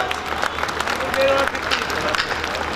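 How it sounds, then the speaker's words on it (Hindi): A crowd at a Hindi comic poetry gathering claps loudly, a continuous dense roar of hands with some voices mixed in, steady and close throughout. "एक बार जोर से ताली बजा कर आपकी आवाज निकाल सकते हो आप।"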